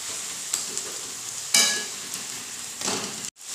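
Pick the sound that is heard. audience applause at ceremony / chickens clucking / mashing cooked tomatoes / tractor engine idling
mashing cooked tomatoes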